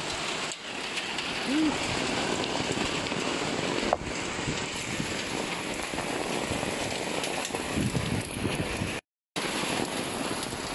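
Heavy typhoon rain pours steadily with gusting wind buffeting the microphone, a dense continuous roar broken by a brief dropout near the end.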